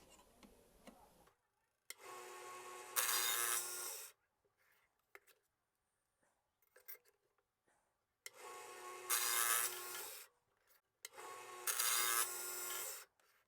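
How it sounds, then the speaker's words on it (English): Crosscut hand saw slid up and down through small bronze pieces, three bursts of rasping strokes separated by quiet gaps with faint ticks, close and fairly soft, no talk. "We're using the crosscut and we're going to just slide it up and down."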